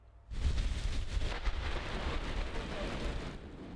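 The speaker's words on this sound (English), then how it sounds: "Rain and lots of it," Heavy rain starts abruptly and roars steadily, with a low rumble underneath that could be thunder; no one speaks.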